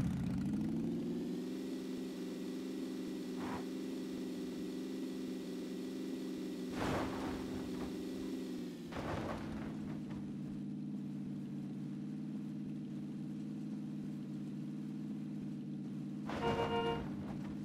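A car engine in the video game Battlegrounds, low on fuel, drones at a steady idle-like hum for the whole stretch, with a brief dip in pitch midway and a short horn-like toot near the end.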